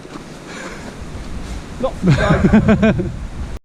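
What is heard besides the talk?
strong wind gusts on a mountain walk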